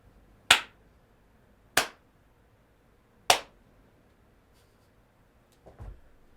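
Three sharp, isolated hand claps spaced about a second apart in a quiet radio studio in Guam, followed by a faint muffled knock near the end.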